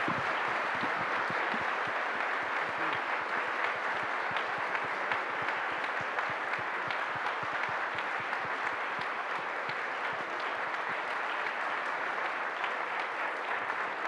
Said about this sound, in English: let's give him a huge applause